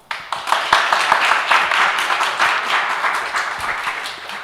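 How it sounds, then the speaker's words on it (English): Audience members at a panel on dealing with online disinformation clap together to vote, a short, close burst of scattered hand claps building quickly and holding for a few seconds. "So clap if you think this is worth pursuing."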